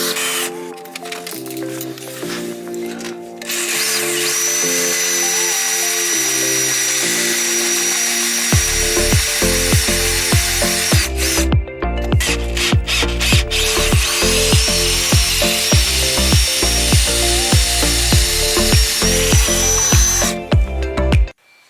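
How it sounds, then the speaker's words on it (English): A power drill with drill bits bores into a spinning welded captive nut on a Polo 6N2, whining at changing pitch and then pulsing in steady loud bursts, close and continuous with no talk. "Drill bits at the ready."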